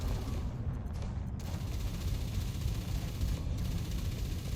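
Multi-cannons firing during a game battle, a dense, continuous barrage of heavy booming shots blending into a loud rumbling roar with no voices.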